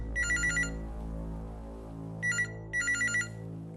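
A telephone rings in short, bright electronic bursts, one double ring and then a pause before two more trill pulses, clear and fairly close over a quiet background hum.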